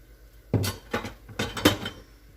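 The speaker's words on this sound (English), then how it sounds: "Loosen up them grains. Again, from the bottom, up and over." A spoon lifts and folds cooked garlic and onion rice from the bottom of a pot, making four or five distinct metallic scrapes and clinks close up in a short burst, with no voices.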